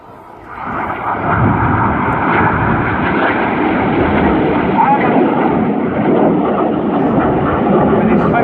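RAF Red Arrows jets fly a display at RIAT 2015, a loud, broad roar of jet engines that swells after a quiet opening and holds steady, with a commentator talking over it.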